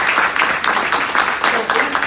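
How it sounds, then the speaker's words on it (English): Audience applause at a business event for ACN, a brief burst of many hands clapping fairly loudly and evenly. "Let's give ACN a big round of applause"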